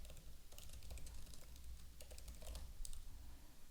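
Quiet, steady typing on a computer keyboard, a continuous run of soft key clicks with a few sharper taps.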